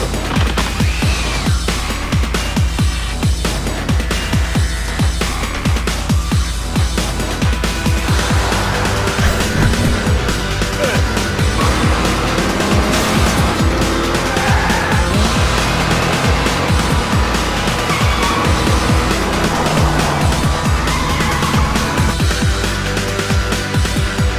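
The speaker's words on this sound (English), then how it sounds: "I got in a car chase with him." Video game car chase with dense, continuous engine roar and tire noise, loud and busy throughout with crashing, percussive hits and no talking.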